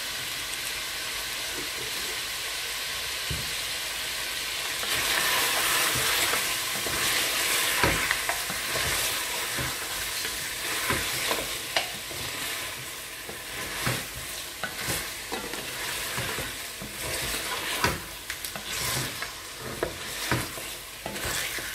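Meat for koko na niama sizzles and fries in a pot, with steady broadband hiss and repeated scraping stirs throughout; close, fairly loud, no talking.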